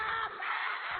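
A single loud, sustained scream of terror rises as a horror-story sound effect, harsh and muffled, lasting about a second with no other sound around it.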